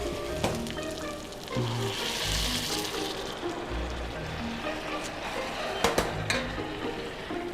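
Rabbit pieces frying with sautéed vegetables in a pan, giving a steady crackling sizzle throughout, with a couple of sharp knocks of utensil on the pan toward the end.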